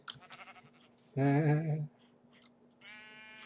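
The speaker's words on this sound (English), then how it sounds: "I heard another sheep." A sheep in a video game gives a short, loud bleat on its own in the middle, with a brief word spoken just before it and a faint higher cry near the end.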